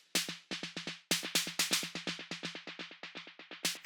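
Deep house snare hits with a 909-like character, fed through automated delay sends, ring out as a rapid train of sharp repeating cracks that trail off in echoes, with a few louder accented hits standing out.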